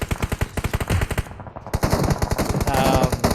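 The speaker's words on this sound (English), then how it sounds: "You can hear gunshots now raining down from every direction." Rapid, evenly spaced automatic gunfire with some single shots crackles loudly in a PUBG match, a short pause breaking the bursts before fire resumes, heavier and more overlapping from several directions.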